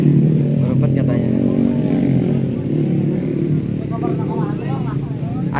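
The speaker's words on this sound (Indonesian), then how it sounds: "Berebet katanya motornya." A motorcycle engine sputters and revs loudly and continuously at close range at a drag-race event, with crowd chatter and voices underneath.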